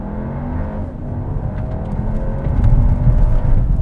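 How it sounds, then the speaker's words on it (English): 2020 Volkswagen Arteon R-Line with a 2-liter turbo accelerating hard from a standing launch, a loud engine rumble heard from inside that rises steadily in pitch and grows louder toward the end. "2020 Volkswagen Arteon. R-Line with no launch control,"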